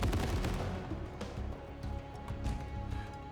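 Gunfire in the video game SteamWorld Heist II, a few muffled shots and impacts mixed into busy game music and effects, moderately loud with no clear separation between blasts.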